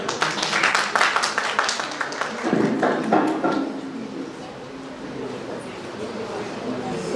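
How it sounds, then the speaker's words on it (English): Audience clapping at a healthcare burnout session, a burst of many hands that is loud for the first few seconds and then thins and fades out into quiet room tone. "Please clap for him."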